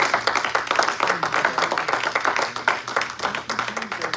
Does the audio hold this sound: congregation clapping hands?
yes